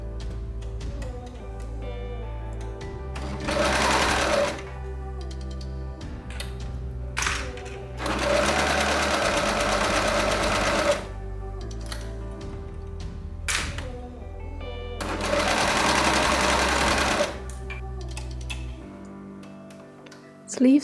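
A sewing machine stitches a turtleneck shirt in three long runs with ticking pauses between them, the fabric shifted and repositioned during the stops, near and moderately loud.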